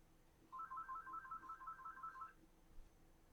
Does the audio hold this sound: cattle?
no